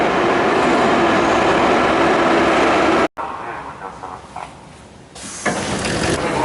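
A Saint Petersburg metro train rumbles loudly at speed, then cuts abruptly to a quieter carriage interior with lighter rolling noise and some low talk, before the rumble swells again.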